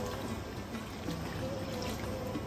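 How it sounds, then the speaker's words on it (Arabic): Water pours steadily into a pressure-cooker pot holding meat and chickpeas for Iraqi qeema, a continuous close rushing splash with no speech over it. "نضيف هنا المي"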